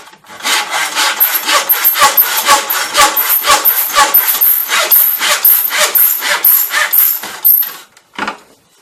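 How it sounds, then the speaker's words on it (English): A miter saw cuts a piece of wood at a square 90-degree angle, giving a steady run of rapid, rhythmic back-and-forth rasping strokes, close and loud, before stopping abruptly with a short final scrape. "The final and best option for cutting the wood nice and square is to use a miter saw"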